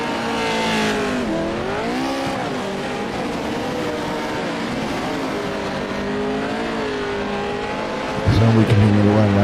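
Pro 4 off-road race trucks scream around a dirt track at Wild West Motorsports Park, engines wailing and rising and falling in pitch as they pass, with a louder nearby burst near the end.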